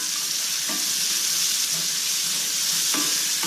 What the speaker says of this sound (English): Saute the two together